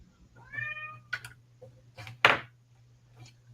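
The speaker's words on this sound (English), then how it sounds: "going to have to get my cat to be quiet" A domestic cat meows indoors, a drawn-out tonal call followed by a couple of short sharper cries, fairly close, with a steady low electrical hum underneath and no talking.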